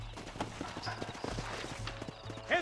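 Horse hooves clip-clop in a steady trotting rhythm in the Red Dead Redemption video game, several horses moving together at close range and moderately loud, with a brief whinny near the end.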